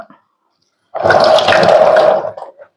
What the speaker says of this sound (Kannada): ಈಗ ಇದಕ್ಕೆ ನೀರ್ ಹಾಕೋಣ.